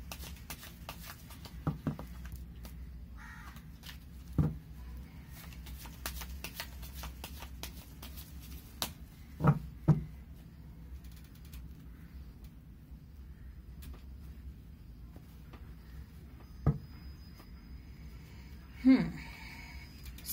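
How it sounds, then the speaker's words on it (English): Tarot cards being shuffled by hand give quiet, scattered soft riffles and taps against a faint room hush, with a few sharper clicks spread through the stretch. "I'll shuffle the cards, I'll lay them down"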